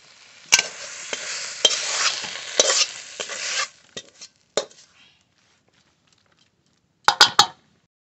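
Fenugreek greens fried with eggplant are stirred in a pan, giving close, loud scraping and sizzling strokes for about four seconds, then a few sparse knocks, a pause and a final short burst of stirring.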